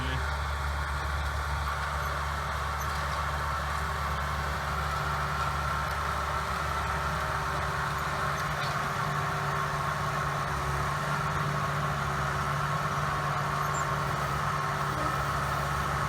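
A John Deere 6100 tractor engine running steadily while planting field corn, a constant low droning hum with a mid-range mechanical whine, close and even throughout with no break in level.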